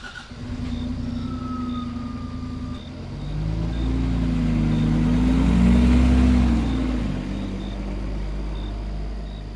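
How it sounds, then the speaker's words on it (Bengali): A taxi car engine rumbles steadily as the car drives along, swelling louder and deeper midway as it pulls forward, then easing back, with no voices over it. "গাড়িটা সশব্দে গ্রামের দিকে এগিয়ে চলে"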